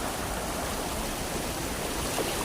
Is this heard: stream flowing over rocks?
yes